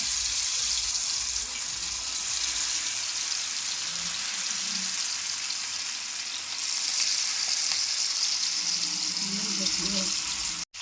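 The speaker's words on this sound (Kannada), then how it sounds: "ಎಣ್ಣೆಗೆ ಬಿಸಿಯಾಗಿದೆ ಎಲ್ಲವನ್ನು ಈ ಥರ ನಾವು ಫ್ರೈ ಮಾಡಲಿಕ್ಕೆ ಇಡಬೇಕು ಒಂದೊಂದಾಗಿ ಇಡ್ತಾ ಇದ್ದೇನೆ" Prawns frying in hot oil, a loud, continuous sizzle and crackle close by that lasts throughout before cutting off abruptly at the very end.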